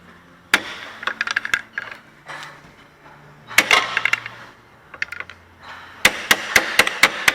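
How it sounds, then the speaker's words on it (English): A pry bar strikes the back side of a Toyota front CV axle in clusters of sharp, close metallic taps and knocks, with short pauses between bursts. "And just hit it on the back side of the axle."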